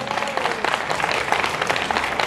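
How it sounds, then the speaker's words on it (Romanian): An audience at a folk festival in Romania breaks into applause for the town's mayor, a dense, continuous clapping sustained throughout. "vă rog să-l aplaudați"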